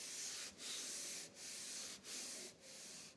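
A sanding block rubbed by hand over primer on a VW T25 van body, four or five steady, soft back-and-forth strokes with brief pauses, close and faint.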